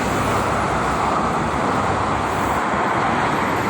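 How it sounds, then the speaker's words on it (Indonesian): Steady morning traffic on the Jakarta–Cikampek toll road, a continuous loud roar of tyres and engines with no breaks, cars and buses streaming past close by. "saya informasikan situasi lalu lintas tol Jakarta Cikampek"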